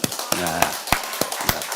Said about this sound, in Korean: 우리 힘차게 하나님 영광의 박수로 한번 드립시다